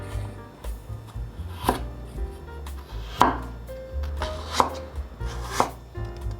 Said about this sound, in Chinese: 把削好皮的红萝卜切下来，把红萝卜切片